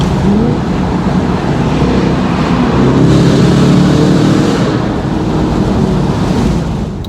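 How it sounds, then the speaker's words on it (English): A Chevy SS with a custom tune accelerates hard, its engine roaring loud and close with quick gear shifts through third, fourth and fifth under heavy wind rush. "Yes. Fourth gear, third gear, fourth, fifth. Wow, that thing just shifts so fast."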